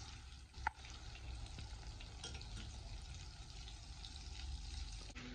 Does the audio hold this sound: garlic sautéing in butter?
yes